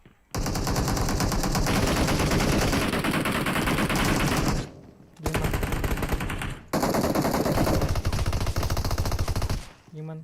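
Loud, continuous automatic gunfire from PUBG Mobile hammers away in long sustained bursts with brief pauses between them, close and dominant, with no talk over it.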